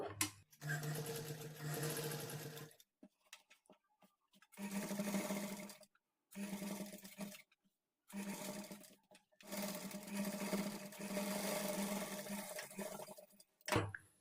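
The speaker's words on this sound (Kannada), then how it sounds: "ಲೈನಿಂಗ್ ಮೇಲೆ ಎಡ್ಜಿಗೊಂದು ಕಿನರಿ ಸ್ಟಿಚ್ ಹಾಕ್ಕೊಳ್ಬೇಕು" A sewing machine stitches an edge on blouse lining fabric in several bursts of rapid, even, whirring clatter, separated by short pauses, close and clear.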